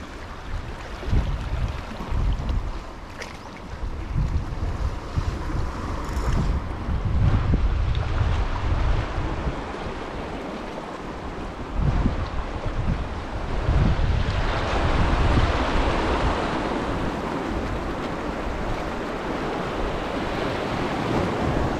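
Strong sea waves surge and crash continuously while heavy northeast monsoon wind buffets the microphone at sea during fishing after heavy rain, loud and close throughout with no voices.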